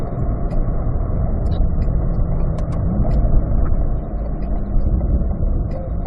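A Corvette engine droning steadily from inside the car while under way, a loud low rumble with a slight dip in level, as if easing through a gear change, and faint clicks above it.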